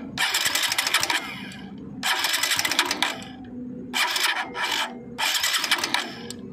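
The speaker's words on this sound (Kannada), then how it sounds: "ಇಂಜಿನಲ್ಲಿ ಏನೋ ಒಂಥರ ಬೇರೆ ಥರ ಸೌಂಡ್ ಬರ್ತಾಯಿದೆ" A motorcycle stalled on a highway between Tumkur and Bengaluru is cranked repeatedly, four loud bursts of rough, raspy starter-and-engine churning that fail to catch, separated by short pauses.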